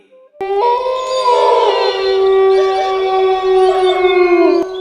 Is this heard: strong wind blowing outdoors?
no